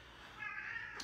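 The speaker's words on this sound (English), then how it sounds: "My cats." A house cat gives a single soft, drawn-out meow, faint and close, in a quiet room.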